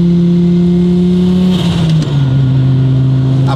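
An Audi A4 B5 with a modified boosted engine pulls hard under throttle, a loud steady droning tone that drops in pitch at a gear change and then holds, heard from inside with no talk.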